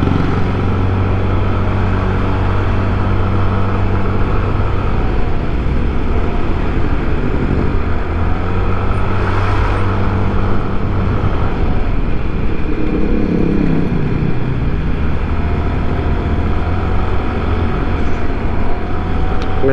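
A motorcycle rides along a bumpy, potholed road after weeks of rain, its engine and road noise a loud, continuous drone with wind rush that stays close and steady throughout, with no talking.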